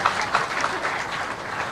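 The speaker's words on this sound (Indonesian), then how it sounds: "Tepuk tangan yang meriah untuk beliau Bapak Amin Rais." A live audience at a Javanese wayang kulit shadow-puppet performance applauds for Bapak Amin Rais. The clapping is dense and continuous, loud and close, with faint voices mixed in.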